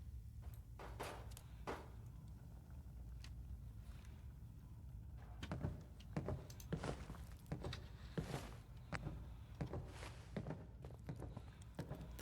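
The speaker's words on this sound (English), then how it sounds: "That's human footsteps." Human footsteps inside the video game Fallout 4, a steady run of soft thuds and scuffs that grows busier and louder midway, with no talking over them.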